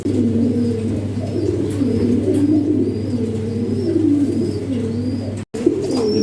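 Domestic pigeons being readied for delivery coo steadily in soft, overlapping murmurs, close by and continuous, over a constant low electrical hum, with a brief dropout near the end.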